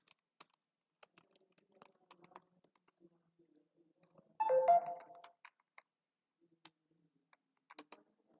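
A phone chimes once with a short message notification tone during quiet computer keyboard typing, the alert standing out clearly among scattered faint key clicks.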